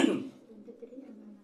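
A single short cough bursts out at the start, followed by a low, faint murmur trailing off.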